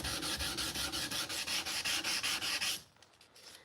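Hand sanding with 320 grit sandpaper makes a steady, rhythmic back-and-forth rasp, roughly a dozen quick strokes at close range, before it stops and quiet follows.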